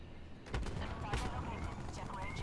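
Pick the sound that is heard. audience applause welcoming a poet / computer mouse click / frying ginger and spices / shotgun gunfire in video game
shotgun gunfire in video game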